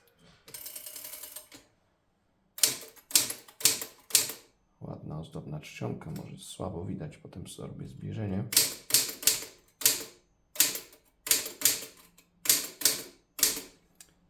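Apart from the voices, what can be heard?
typing on a Stoewer Model 4 typewriter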